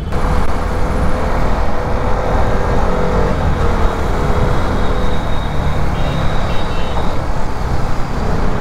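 A two-wheeler's engine hums steadily through morning traffic, with road noise and passing vehicles all around; the ride is loud and continuous throughout.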